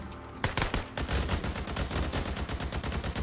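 Loud, close gunfire in Days Gone, with a few separate shots followed by a sustained rapid volley that runs without a break for several seconds.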